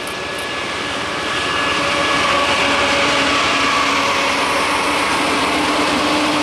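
A southbound grain freight train rolling past on the Dane District near Miamisburg, Ohio, a loud, steady roar of wheels and cars with a faint tonal hum, swelling slightly and holding constant close by.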